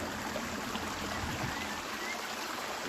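A river flows beneath a bridge in a steady, even wash of running water, heard from above at a moderate distance with no talking.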